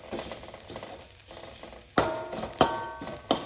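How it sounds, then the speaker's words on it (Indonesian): Coto makassar ingredients sautéing in a pan, with a low steady sizzle broken by several sharp clinks and scrapes of a utensil stirring against the metal. "Sisanya kita tumis ya supaya kecoklatan."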